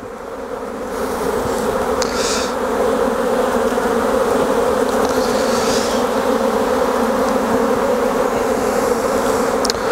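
Honeybees swarm around an open hive during a frame-by-frame inspection, making a dense, loud and continuous buzz close by with no talking.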